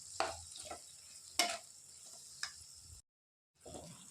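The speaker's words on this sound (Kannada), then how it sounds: "ಹಾಕಿ ಫುಲ್ಲು ಮಿಕ್ಸ್ ಮಾಡ್ಕೊಳ್ತೀನಿ" Capsicum is stirred with turmeric, chilli powder, coriander powder and salt in a frying pan, making a low sizzle broken by several sharp scraping strokes and a brief gap of silence.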